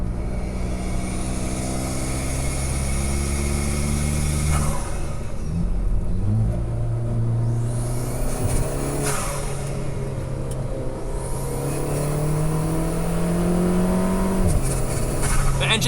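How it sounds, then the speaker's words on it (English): An Alfa Romeo 4C Spider's turbocharged engine revs up through the gears in sweeping rising pitches, with breathy blow-off valve whooshes between shifts, close and loud throughout. "From the first gear button to these blow-off valve noises."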